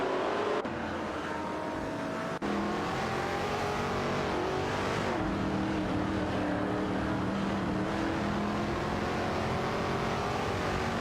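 A Shelby Cobra 427 and a Ferrari 250LM racing in a video game: continuous engine roar with rising and falling revs and gear changes, loud and close for the whole stretch.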